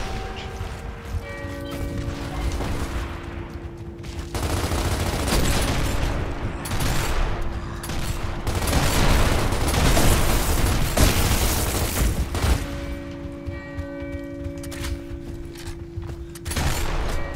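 Boomshot explosions and heavy gunfire in a Gears of War Ultimate Edition team deathmatch, dense booming blasts and mechanical clatter that swell and roll on continuously, loud throughout.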